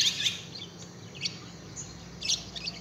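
A parakeet in a colony aviary mimics other birds' calls: a few faint, short high chirps spaced about a second apart over a quiet background hiss.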